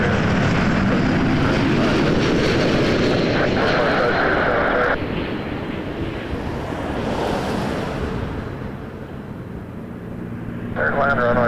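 A passenger airliner touches down on runway 24 Left at Toronto Pearson airport, a loud, steady engine roar with rushing wind-like noise that eases midway and swells again near the end, with no talk.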